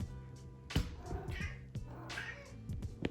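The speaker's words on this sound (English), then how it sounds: "Watch, y'all, I already know my cat coming" A cat meows close by in a kitchen, a couple of drawn-out cries mixed with soft clatter and thumps.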